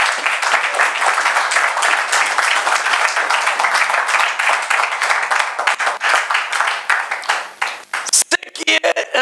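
A church congregation applauds loudly and continuously, dense clapping filling the room for several seconds before thinning into scattered claps at the end, with voices mixed in.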